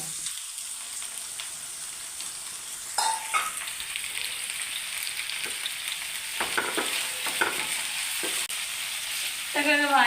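Curry leaves hit hot oil in a pan for a kovakka mezhukkupuratti stir-fry, setting off a steady bright sizzle with sharper crackling spurts and stirring clatter up close. The spitting swells toward the end.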